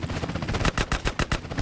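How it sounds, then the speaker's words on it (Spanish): Rapid bursts of gunfire in Grand Theft Auto: San Andreas on PlayStation 2 crackle in a fast, uneven rhythm, loud and close, sharp shots clustering into volleys. "cantidad de balazo exagerada aquí"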